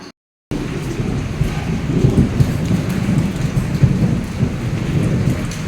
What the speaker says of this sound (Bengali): অবশেষে বৃষ্টি হলো দেখো